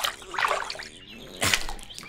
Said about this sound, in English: Add the sound effects, such as splashing water